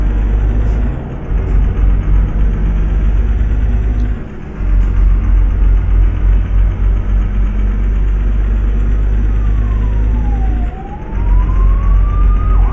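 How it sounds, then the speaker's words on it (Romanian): A police car siren wails in a driving video game on a Romanian map, loud and continuous over a steady engine drone, breaking off briefly twice and then sweeping up and down near the end. "Ia auzi, mă, iar poliție."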